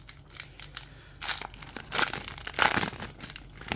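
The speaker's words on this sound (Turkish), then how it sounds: "Eevee, Jolteon ve Vaporeon'la paketi açıyoruz" A Pokémon booster pack wrapper being torn open, crinkling foil plastic in several close, loud bursts of crumpling and tearing, each lasting under a second, between quieter pauses.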